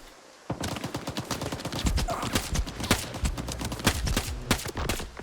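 Rapid suppressed gunfire from a first-person shooter video game, a dense run of sharp muffled shots and clattering bursts going almost nonstop after a brief quiet start, loud and close with no talk.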